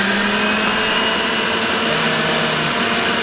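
A high-speed blender or juicer motor runs at full blast, a loud, steady, continuous whine with no pauses, close and alone.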